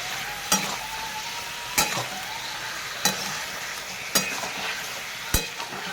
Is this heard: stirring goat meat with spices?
yes